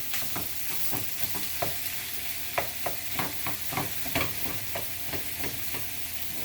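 Food searing in a very hot pan: a steady bright sizzle with frequent soft scraping and stirring clicks in an irregular rhythm, close and fairly quiet with no talk.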